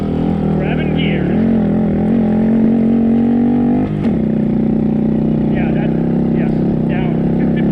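Small Honda Monkey motorcycle engine revving and changing pitch as gears shift on a back-country enduro ride, loud and close throughout, a brief dip near the middle, with voices over the engine.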